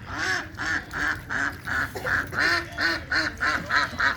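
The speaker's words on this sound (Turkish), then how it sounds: "Bütün ördekler gene geldi." Repeated loud, nasal duck quacks in a steady rhythm, one after another, close by at a pond, with no talking.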